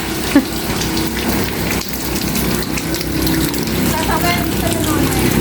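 Light rain falls steadily outdoors while food is cooked in the open, a constant patter and gush close by, with faint voices talking underneath.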